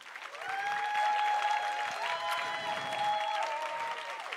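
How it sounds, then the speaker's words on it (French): Parents in a church applaud their children in a steady, fairly quiet wash of clapping that lasts throughout, with faint tonal sounds running underneath. "j'aimerais que les parents, on puisse applaudir tous ces enfants qui sont là."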